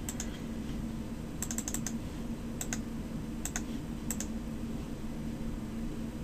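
Someone types on a computer keyboard while working in an Excel spreadsheet, a few quick bursts of soft key clicks with pauses in between, faint under a steady background hum.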